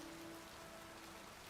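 Steady rain in the video game The Necromancer's Tale, a soft continuous patter with a faint tonal hum beneath, no voices.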